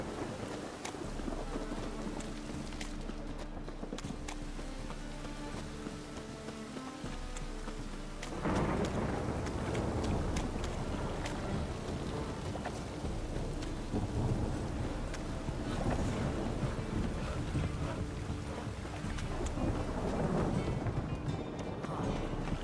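Thunderstorm in The Witcher 3 video game: steady heavy rain and wind, with a loud thunder rumble breaking in around a third of the way through and continuing as a dense roar, no talking.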